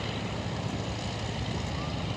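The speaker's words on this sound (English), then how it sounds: "Now, an airplane's not supposed to do that, Lauren." A propeller-driven warbird flies aerobatic maneuvers at the Power on the Prairie airshow, its engine a steady, continuous drone with a broad rushing roar that holds even through the whole stretch, with no talk over it.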